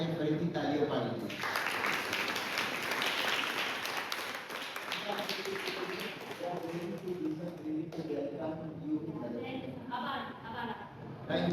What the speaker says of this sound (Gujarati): એમના આભાર માનીને ફરીથી તાળીઓ પાડીએ